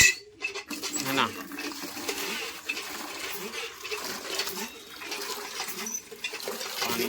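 Water is poured and run during a Jitiya puja ritual at home, splashing and trickling unevenly at close range while voices murmur in the background.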